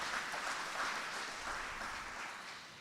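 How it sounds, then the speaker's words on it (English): An audience at a youth homelessness policy breakfast gives steady, sustained applause, a dense wash of many hands clapping that holds evenly throughout and tapers slightly at the end. "Let's give her a round of applause."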